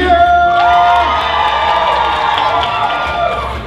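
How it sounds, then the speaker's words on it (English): An audience at a cosplay fashion show cheers loudly and continuously, a dense wall of whoops and shouts from a large crowd that holds steady throughout and fades slightly toward the end. "one last chance to cheer"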